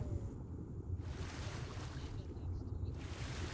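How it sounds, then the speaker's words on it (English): Splashing, churning water from a character swimming across in a dinosaur video game, a steady broadband wash close up with a brief lull in the middle. "I'm trying to swim across."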